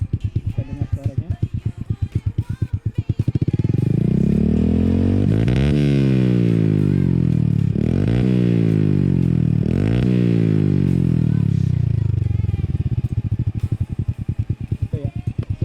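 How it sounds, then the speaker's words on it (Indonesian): A motorcycle fitted with an Akrapovic racing exhaust idles with a lumpy, deep rhythm, then revs hard three times in quick succession, each rise and fall loud and close, before settling back to idle. "kali ini saya akan mereview sedikit tentang ini ya, knalpot racing Akrapovic ya"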